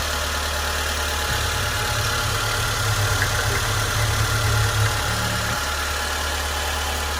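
A car engine idles steadily, heard up close in the open engine bay, with a constant low hum and a brief deeper swell near the middle.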